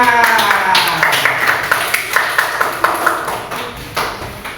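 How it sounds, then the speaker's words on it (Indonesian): A round of clapping from a group in a classroom teaching session, a steady patter of claps with a brief tonal ring at the start, mixed with voices. "tepuk tangan"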